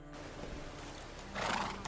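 A horse in the medieval life-sim game Medieval Dynasty lets out a whinny over soft hoof clip-clops, the neigh rising sharply near the end of the brief moment, with no talking.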